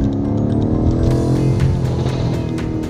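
A modified BMW M5 with an aftermarket exhaust, driven in Sport Plus with stability control off, rumbles steadily nearby with a sharp crackling pop from the tailpipes partway through, under continuous engine and road noise.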